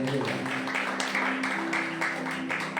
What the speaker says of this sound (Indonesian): Yuk tepuk tangan bagi Allah kita.